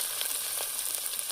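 Curry leaves hitting hot oil for a big pot of milagu venpongal, a close, continuous crackling sizzle with scattered pops throughout, with no talking.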